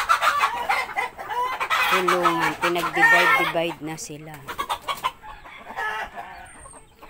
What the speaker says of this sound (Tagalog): Kaya pala pumupunta dito sa kabila yung isang tandang.